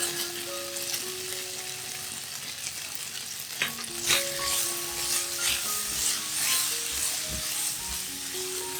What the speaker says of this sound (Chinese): 加入素蚝油、胡椒粉、黑糖炒一炒